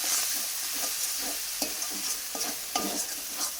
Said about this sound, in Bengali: দিয়ে আবার একটু কষিয়ে নেব